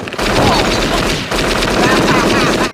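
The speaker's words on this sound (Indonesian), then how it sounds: "Saat petasan itu meledak" Firecrackers go off in a scene from the film Home Alone, a loud, dense, rapid crackle like machine-gun fire, in two sustained bursts split by a brief pause, then cutting off abruptly.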